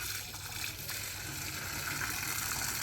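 Watery cow dung and water slurry, mixed about half and half, gushes steadily into a biogas digester with a continuous close rushing, splashing flow and no talk over it.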